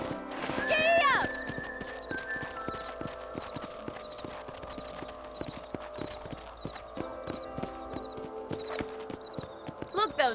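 A horse in the video game Red Dead Redemption whinnies loudly, then its hooves clip-clop in a fast, steady galloping rhythm under background music and game sounds.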